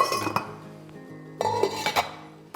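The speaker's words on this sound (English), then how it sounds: "we're going to place the lids on top of the pans" Metal lids set down on cooking pans on an AGA range top give a few sharp clinks and clatters separated by short pauses, close and fairly quiet.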